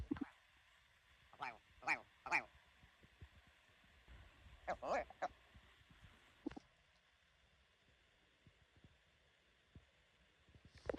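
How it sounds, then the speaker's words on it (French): Short, hen-like clucking bird calls in Scotland come in scattered bursts, some in quick pairs, against a quiet outdoor background. "J'entends un bruit bizarre et en fait, c'est une sorte de poule."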